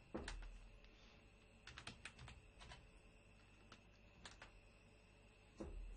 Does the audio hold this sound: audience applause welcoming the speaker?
no